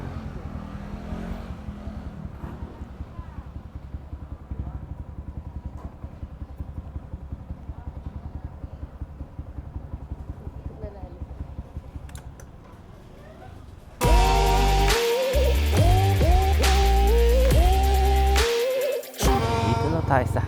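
Motorcycle riding on a highway, a steady engine drone and wind rumble that gives way to louder, brighter sound near the end, recorded through a helmet-mounted mic on an action camera.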